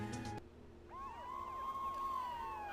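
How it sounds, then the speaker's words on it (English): A distant wailing police siren in the game Ace Attorney rises and sweeps up and down, faint and steady against a low background hum. "police sounds like they're coming this way."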